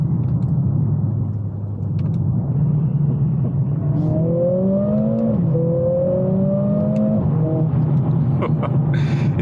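A Mercedes CLA45 AMG pulls hard through its gears, engine note climbing in steady rising sweeps with short drops at each paddle shift, heard from inside the cabin over constant road and wind rumble.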